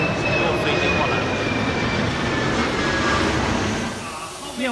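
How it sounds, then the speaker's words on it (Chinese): A jet airplane passes overhead, a loud broad roar with a whining tone holding steady before easing slightly toward the end, while a person talks outdoors in the rain. "又飞机过来"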